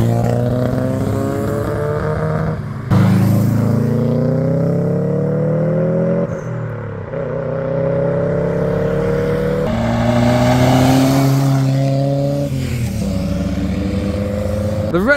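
Ford Focus RS rally car passing close at full throttle, its engine note rising and falling through several gear changes with loud revving, one run following another as it sweeps by.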